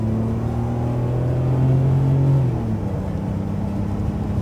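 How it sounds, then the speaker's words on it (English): A Mercedes W140 with an inline-six engine accelerating from a second-gear start, heard from inside as a loud, steady engine rumble whose droning tone climbs and then eases back. "we're going to lay into it. Second gear start. It will rev out."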